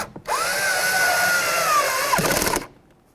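A power drill drives a screw while a 2005–2015 Toyota Tacoma side mirror is installed: one continuous, close whirring run of about two seconds that rises slightly, then a short final burst before it stops.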